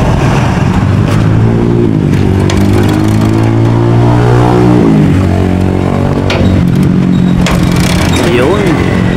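A diesel engine being flushed with diesel fuel starts and revs loudly and close, its droning pitch climbing, holding, then dropping and rising again in strong, steady waves.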